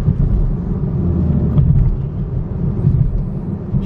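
Chevrolet Camaro V6 1LT pulling hard on the road, a steady loud low engine drone with rumbling road noise throughout, no talking.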